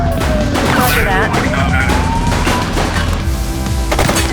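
Gunfire from a fleeing suspect during a chase in The Precinct, several sharp shots scattered among loud, busy game sound with sirens and voices.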